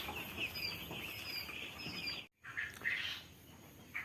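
Broiler chickens in a poultry shed on vaccination day give a steady, fairly faint chorus of chirps and clucks, briefly cut by a short gap of silence before the calls resume.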